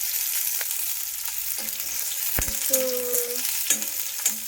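Onion pieces roast in a deep kadai with a soft, continuous sizzle. Sharp clinks and scrapes from a utensil break in now and then, along with short tonal squeaks. A brief spoken word comes near the start.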